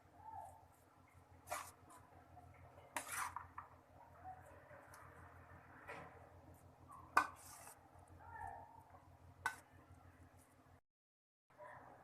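Cooled rice being gently mixed with prepared masala for raw mango rice, heard as soft, quiet scraping and clinking of a spoon against a pot, with a few sharper clatters among steady low stirring.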